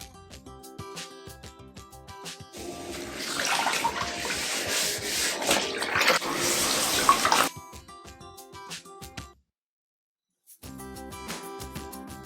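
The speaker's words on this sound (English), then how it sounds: "I also took some extra time to deep clean my sink and the sink drain." Water runs from a tap into a kitchen sink during deep cleaning, a rushing stream that swells for several seconds, then stops briefly and resumes more faintly, with background music.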